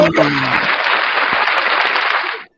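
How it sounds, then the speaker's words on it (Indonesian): A burst of enthusiastic applause from a group, loud and close, sustaining for a couple of seconds before cutting off abruptly; a brief voice at the very start, during a sixth-grade class lesson. "Tepuk tangan."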